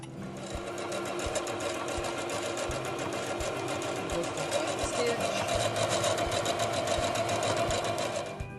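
A sewing machine stitches a pleated fabric face mask, a fast steady mechanical chatter that continues without pause at close range.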